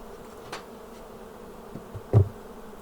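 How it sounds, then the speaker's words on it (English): Honey bees leave a beehive, their faint buzzing drifting in the quiet, with a few louder passes and a brief close knock. "There's a few bees coming out of there"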